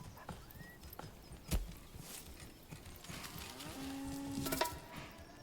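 Cattle and horses in the medieval city-building game Manor Lords: hooves clip-clop and a low moo and whinny rise over a faint ambient bed, with scattered soft thuds.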